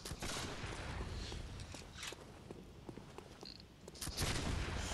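Enemy gunfire in Bloodborne, with sharp shots and bursts cracking over a dense, loud game soundscape, several reports spread across the moment with rumbling echoes between them.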